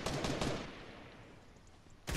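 Gunfire in Fortnite: a quick burst of loud shots up front, a fading tail, then another sharp shot at the end, with no talk.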